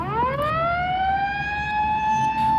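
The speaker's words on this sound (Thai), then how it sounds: "มันก็มีเสียงหวอสัญญาณเตือนภัยดังขึ้น" A loud air raid siren wails steadily, its tone rising at the start and then holding a sustained, piercing pitch throughout.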